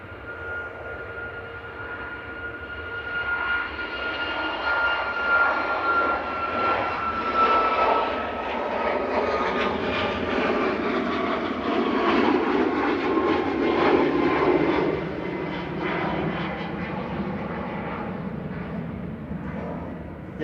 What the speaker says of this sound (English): Just let this Ryanair go before I talk anymore.